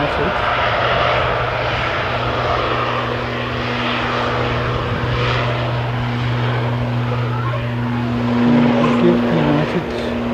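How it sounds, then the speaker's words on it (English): United Boeing 787-8 Dreamliner airliner departing, a steady broad jet engine roar with a low droning hum, heard from a distance under a person talking. "United departing shortly. So that's the Dreamliner 787-8, so the short wheelbase model."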